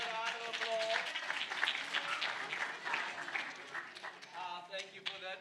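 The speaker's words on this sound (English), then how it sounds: "Give her a round of applause." A round of applause for a participant at a robotics competition information evening, clapping steady and moderately loud, with voices and tonal sounds audible over it.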